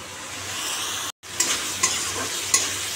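Fried fish sizzles in a pan of spiced oil with cumin powder, onion and green chili, a steady close hiss. It cuts out briefly, then returns with a few light clicks and spatters, with no talk.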